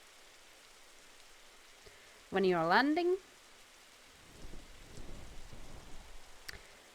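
Steady rain falls in the dinosaur survival game Beasts of Bermuda, a soft continuous hiss with faint patter throughout, briefly under a short burst of talk.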